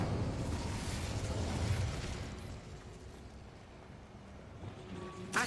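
An Incendio fire spell goes off in Hogwarts Legacy as a dense, rumbling whoosh. It starts strong, then fades to a lower roar with a small burst near the end. No one speaks.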